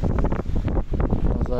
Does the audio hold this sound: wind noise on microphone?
yes